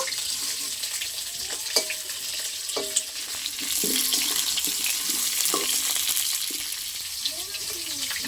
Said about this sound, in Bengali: আমি আলুগুলো 2 মিনিট একটু লাল লাল করে ভেজে নেব।